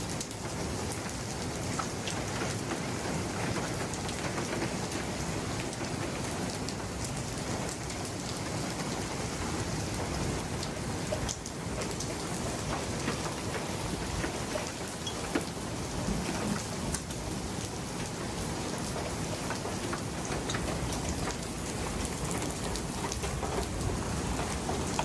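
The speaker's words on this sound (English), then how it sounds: "let me input a little footage of the wonderful storm we had just a little bit ago" Heavy rain and hail beat down steadily during a summer thunderstorm, a dense, loud, unbroken roar with occasional sharper impacts and low rumbles throughout, with no voices.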